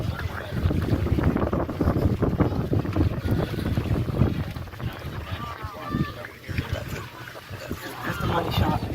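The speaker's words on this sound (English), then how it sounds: "Engines. Falcon Heavy." A Falcon Heavy rocket lifts off from Brevard carrying NOAA's newest weather satellite, its engines giving a continuous, crackling roar that rumbles steadily with some rising and falling intensity throughout.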